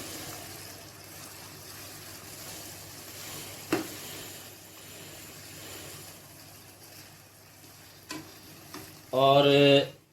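Chopped tomatoes stirred and frying in a chicken karahi, a soft continuous sizzle with occasional clinks of a utensil against the pan and a brief louder scrape near the end.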